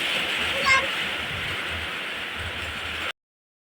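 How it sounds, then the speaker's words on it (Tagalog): Heavy rain pours down in a steady loud hiss during a storm at a school, with a brief faint voice near the start before the sound cuts off abruptly. "Bigla na lang lumakas yung ulan, guys."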